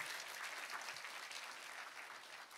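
A church congregation applauds with steady, dense clapping that runs evenly and fairly quietly from start to finish, with no talk over it.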